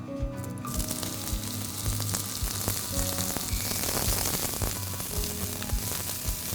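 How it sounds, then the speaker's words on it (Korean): Onion and other vegetables stir-fry in a small amount of cooking oil, a steady close sizzle with occasional scraping and stirring clicks throughout. "이제 생선 위에 얹어질 재료들을 슬쩍 볶아서 얹을 거거든요."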